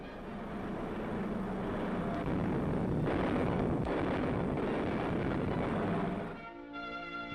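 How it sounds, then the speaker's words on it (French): World War II British and American aircraft taking off fill the air with a dense, steady engine roar that holds for about six seconds before dropping away abruptly into quieter, tonal engine hum. "des avions britanniques et américains décollent pour la France"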